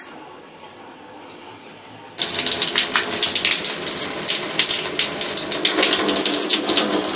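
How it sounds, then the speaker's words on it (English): A bathroom faucet fitted with a modified Delta valve body is turned on and water gushes out loud and steady, following a couple of seconds of quiet room hiss. "Okay, there's more water now."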